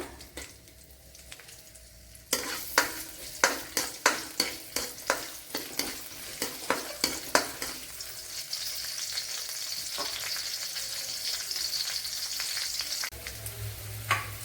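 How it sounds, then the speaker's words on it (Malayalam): Green chillies and garlic cloves hitting oil already used for roasting coconut, for an okra curry: a soft start, then a loud burst of sizzling with sharp clattering stirs and spatters, settling into a steady close hiss with no talk. "അതിലേക്ക് ഇനി ഒരു 3-4 പച്ചമുളക്, 6-7 വെളുത്തുള്ളി അല്ലി ഇട്ട് കൊടുക്കാം"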